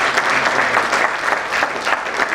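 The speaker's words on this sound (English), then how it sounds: "Can I have a louder clap at the moment" A crowd at an event in Malaysia claps loudly and continuously. The dense applause holds steady for a couple of seconds with no clear talk over it.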